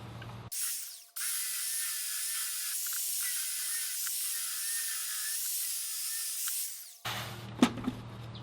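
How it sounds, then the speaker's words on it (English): A belt sander runs on a wooden piece for a stool, smoothing away saw marks. It makes a steady whirring hiss for several seconds after spinning up, then cuts off, followed by a few clunks. "I'm gonna belt sand it though, because I have some saw marks and stuff on it"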